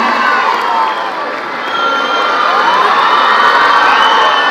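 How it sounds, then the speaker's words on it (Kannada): A large indoor crowd at a Constitution Day event in Bengaluru cheers and applauds to welcome Chief Minister Siddaramaiah, a loud, continuous wash of clapping, shouts and whoops with no break. "ನಿಮ್ಮೆಲ್ಲರ ಚಪ್ಪಾಳೆಗಳ ಮುಖೇನ ಸ್ವಾಗತಿಸಿ ಬಂಧುಗಳೇ"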